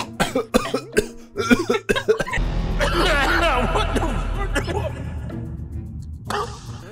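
Several sharp, quick coughs in a row, followed by a longer stretch of throaty, breathy noise and a bit of muffled laughter.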